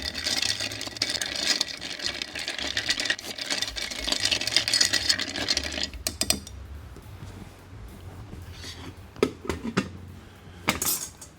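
A bourbon cocktail stirred with ice in a glass gives a steady close rattle and clink of cubes for about six seconds, then scattered lighter taps and clinks, with no talking.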